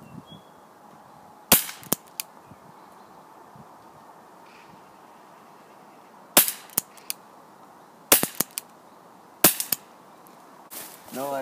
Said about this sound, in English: He's gonna shoot 4 bullets and then I'm gonna shoot 4